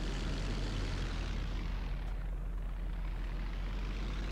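Helicopter in the video game DayZ flying with a steady, dense rotor and engine drone that fills the whole clip at an even loudness, with no voices over it.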